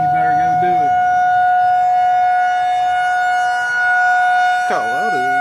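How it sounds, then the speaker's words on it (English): A civil defense tornado warning siren wails loudly nearby, a sustained rising and falling tone that holds steady across the clip, with people talking briefly near the start and end. "I'm just recording a tornado siren video"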